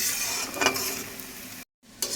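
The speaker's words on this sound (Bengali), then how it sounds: "পেঁয়াজটাকে লাল লাল করে ব্রেস্তা বানিয়ে নেব" Onions frying in hot oil until deep reddish-brown for birista for a chicken korma: a steady, dense sizzle with stirring, cut by a brief moment of silence before the crackle returns.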